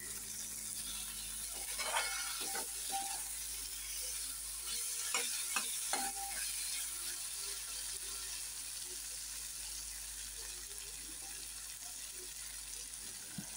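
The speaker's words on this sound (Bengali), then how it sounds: "দেখো আমার কিন্তু মশলা কষে গেছে, তেল ছেড়ে এসেছে।" Spice masala of onion and tomato fries in oil for a fish curry, stirred with scattered scrapes and soft sizzling in a kitchen, fairly quiet and without talk.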